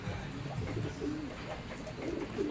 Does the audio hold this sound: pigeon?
yes